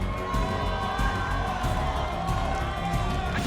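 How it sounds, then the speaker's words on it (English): An esports crowd cheers at a Halo championship grand final in Kansas City, a dense, loud roar of fans that holds steady throughout with whoops rising above it. "Sentinels fans starting to make a little bit more noise as well"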